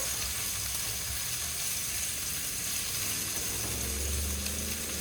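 Steak searing in a very hot pan, giving a steady, even sizzle and crackle that holds for several seconds, close and moderately loud with no talk over it.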